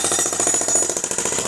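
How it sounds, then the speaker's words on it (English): A jackhammer breaks up a concrete sidewalk at a house, its rapid steady hammering loud and close throughout with no pauses. "Breaking up the concrete sidewalk. I convinced him to let's get a jackhammer to do this."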